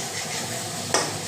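Soybean curry sautéing in a pan, a steady low sizzle with a short scrape of stirring near the end, close and alone.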